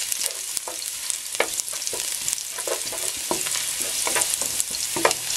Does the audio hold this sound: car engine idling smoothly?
no